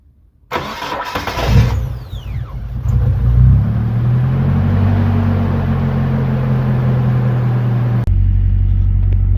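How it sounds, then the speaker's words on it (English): A Ford KA engine cranks and catches, then holds a steady, loud, high idle of about 1500 RPM, its low rumble continuing unbroken for several seconds before an abrupt change near the end. "This is a 1500 RPM idle."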